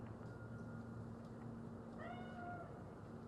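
A cat meows once in the video game Cyberpunk 2077, a short rising-and-falling call heard faintly over a steady low ambient hum.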